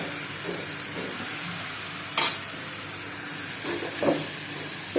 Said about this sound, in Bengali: খুব ভালোভাবে মশলা দিয়ে কষিয়ে নিতে হবে।